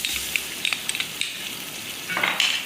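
Garlic dropped into hot oil for beef pulao crackles and sizzles, with a few stirring scrapes and a louder burst of frying near the end; nobody speaks.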